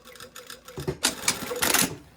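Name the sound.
sewing machine stitching lining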